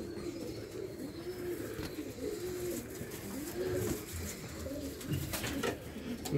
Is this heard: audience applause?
no